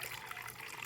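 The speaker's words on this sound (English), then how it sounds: "let me pour water into the water dish" Water being poured into a spider's water dish, a brief, soft, steady trickle without any talk over it.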